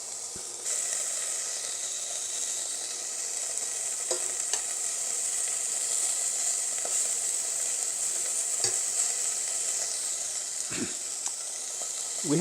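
Beef browns in olive oil in a pan, a second batch searing with a loud, continuous sizzle and hiss, broken now and then by short clicks and scrapes of turning the meat.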